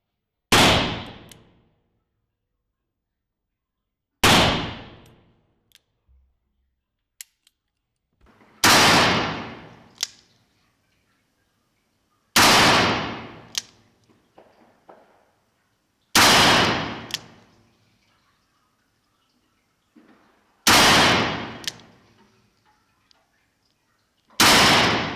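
Six loud single gunshots from a Smith & Wesson 625 Performance Center .45 ACP revolver ring out at slow, regular intervals of about four seconds, each sharp crack trailing off into a brief echo.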